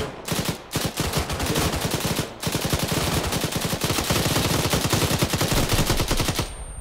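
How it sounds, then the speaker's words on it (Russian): Heavy, close gunfire in the combat video game ARMA 3, with rapid bursts of automatic shots stacking into a dense, loud barrage that runs almost without pause, broken briefly by a couple of short gaps. "Низко летят чьи-то ракеты, выстрелы."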